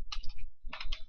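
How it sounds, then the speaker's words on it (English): Keys tapped on a computer keyboard while an email subject line is typed: two short bursts of quick, close clicks separated by a brief pause. "Always type in your subject line."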